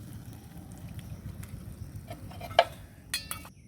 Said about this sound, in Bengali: বন্ধুরা এবার আমি সবকটা দিয়ে এই রসের মধ্যে একটু নাড়াচাড়া করে নেব।